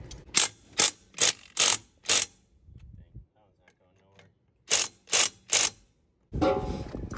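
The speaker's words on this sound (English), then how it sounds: "I think I'm gonna try the impact wrench again." Impact wrench working on tight lug nuts of a camper tire: two sets of sharp, loud ratcheting bursts, five then three, with a quiet pause between and rumbling handling noise at the end.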